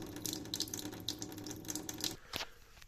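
Water running steadily from single-hole bathtub taps as hot and cold lines are drained before the hoses are disconnected, a continuous close hiss and trickle that cuts off near the end with a final splash.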